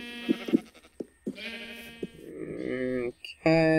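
Minecraft sheep bleat in a rapid series of wavering baas, some short and some drawn out, loud and close. A voice briefly overlaps the calls.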